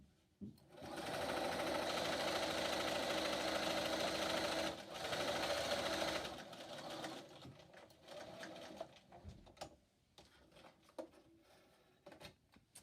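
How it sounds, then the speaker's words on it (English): A sewing machine top stitches along the bottom edge of a fabric mask, running in a loud steady burst with a brief pause, then stopping; afterward, quieter handling clicks and rustles follow. "I'm going to turn this under this little opening and top stitch along the bottom"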